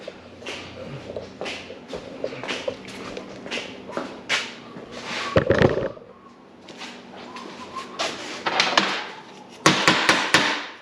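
Hammer blows striking a piece of steel on a workbench, flattening it out; irregular sharp close impacts come in clusters with brief pauses, loud and dry, with no talking.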